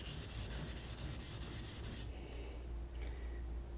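A plane iron is rubbed freehand on a sharpening stone to remove the burr, a close, rhythmic scraping stroke repeated quickly for two seconds before it fades into quieter, softer rubbing.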